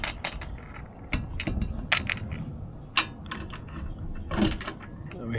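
Metal bolts being slid and maneuvered into the slots of a Front Runner Slim Rack 2 while installing a shower awning, a series of irregular sharp clicks, scrapes and metallic knocks close by.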